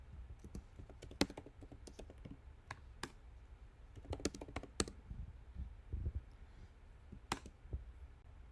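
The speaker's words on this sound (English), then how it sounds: "So I'm going to click here and just start typing." Quiet, close keystrokes tap out on a computer keyboard in uneven bursts, with sharp clicks scattered between short pauses.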